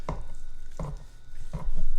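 A knife slices through 30-day wet-aged brisket cooked on a Pit Boss, making three close, crisp cutting strokes at an even pace about three-quarters of a second apart, with no talking.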